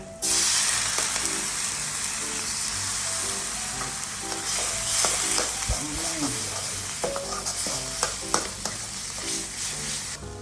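Pork cartilage is stir-fried with southern Thai curry paste: a loud, steady hiss of frying runs throughout, broken by repeated scraping and clanking stirs of the pan, close up and with no talking.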